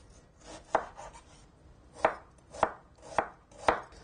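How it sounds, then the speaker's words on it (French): A knife slices through an onion on a cutting board in five sharp, close knocks: one early strike, a pause, then four fairly evenly spaced chops in a quiet kitchen. "on émince l'oignon"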